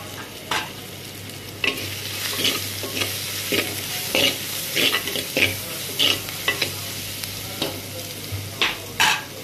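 Onion and tomato sauté for a brinjal drumstick sambar, sizzling steadily under repeated scraping strokes of a spoon against the pan, close and fairly loud, with no talking.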